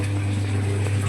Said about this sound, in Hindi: ये देखो मेरी चल रही है मशीन, ये देखो कपड़े धुल रहे हैं।